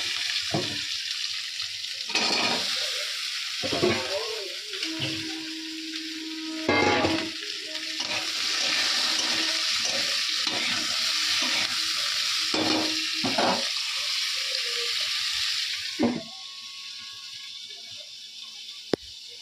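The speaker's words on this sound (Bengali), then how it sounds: "এখানে দেখো তেলের মধ্যে পেঁয়াজ লঙ্কা আট করে দিয়ে দিই" Chopped onion and chili fry in hot oil in a home kitchen, giving a steady close sizzle broken by occasional stirring scrapes and clatters, with no talk.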